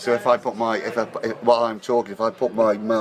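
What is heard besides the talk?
No everyday noise stands out behind the speech.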